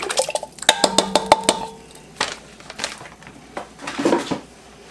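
A can of beans is tipped into a pot of white chicken chili with frozen corn, giving ringing metallic clinks and knocks from the can against the pot, followed by softer wet plops and stirring sounds, all close and loud.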